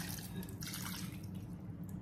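Water pours into a cooking pot during a soul food Sunday dinner of pigtails, neckbones and great northern beans, a faint, steady trickling splash, close by and alone.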